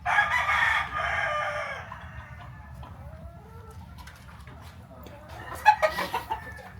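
A Boston Millionaire gamefowl rooster crows loudly nearby, a long call at the start followed by a second crow and a burst of clucking near the end, over a low background hum.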